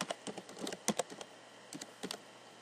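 Light typing on a computer keyboard, a few scattered clusters of soft key clicks with short pauses between them, fairly quiet and without voices.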